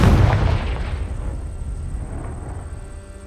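A Confringo spell blast in the Hogwarts Legacy video game: one loud, booming explosion with a heavy low-end thump that decays into a long, rumbling tail over roughly three seconds, with no talking.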